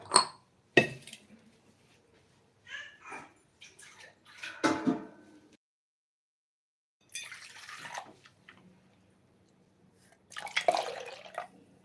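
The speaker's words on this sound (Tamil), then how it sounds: "அதனால் தண்ணி ஊற்றுறேன் அடியில் இல்லைன்னா பிடிக்கும்" Water splashes and trickles in short bursts into a pot of cow colostrum milk, with quiet gaps between pours and a dripping, sloshing quality up close.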